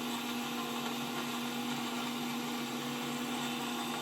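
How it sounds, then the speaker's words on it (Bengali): An electric blender whirs steadily, blending cold coffee with Oreo biscuits; a continuous motor whine with a strong fixed hum runs unbroken and close throughout, with no talking. "এখন এটা ভালোভাবে ব্লেন্ড করে নিব।"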